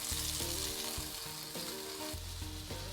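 Salmon skin fries crispy in a hot pan, a steady close sizzle running throughout with a tonal background hum layered underneath.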